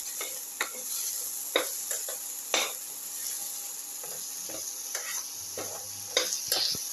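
Onions sautéing in a pan until golden brown, a gentle steady sizzle punctuated by several distinct scrapes and knocks of a stirring utensil, heard up close.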